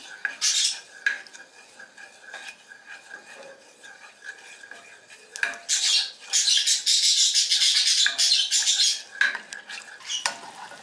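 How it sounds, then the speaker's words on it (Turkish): Sugar syrup (şerbet) being stirred in a pot on the stove while the sugar melts, with scraping of a spoon against metal and clinks of utensils, growing busier and louder in the second half with no talking. "Şerbetimizi ocağımıza alalım. Şekerimiz eriyene kadar karıştıralım."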